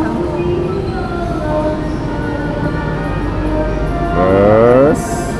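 A premium-class passenger train runs along the rails with a steady rumble, then a rising wheel squeal near the end. Someone talks over the rolling noise.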